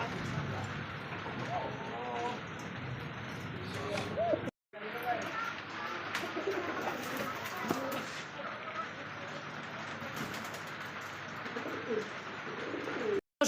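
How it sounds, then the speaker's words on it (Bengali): Pakistani Giribaz pigeons coo in soft, repeated throaty rolls close by, with someone talking over them and a brief cut in the middle. "এটা হচ্ছে গিরিবাস কবুতর, আর পাকিস্তানি গিরিবাস তাই না ভাই?"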